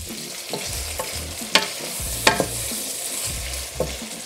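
Pork binagoongan with eggplant stirred in a pan, a spatula scraping and clacking in irregular strokes over a soft, steady sizzle, close up, with no talking.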